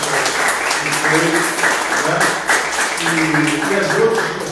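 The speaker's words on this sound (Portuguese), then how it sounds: "a gente tem que dar uma salva de palmas para ela" An audience at a talk on secondary-school education gives sustained, dense applause throughout, steady and fairly loud.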